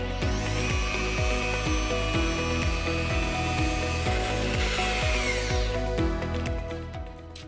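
Polishing machine buffing a faded plastic headlight with final polishing compound, a continuous close mechanical whir with a regular pulsing rhythm, winding down at the end.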